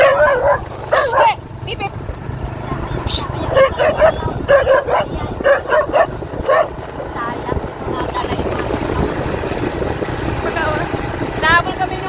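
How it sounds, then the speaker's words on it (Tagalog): Dogs on a farm bark and yip in short bursts, several sharp calls near and mid-distance, with people talking throughout. "Nahabol kami ng mga aso na yun na pasaway."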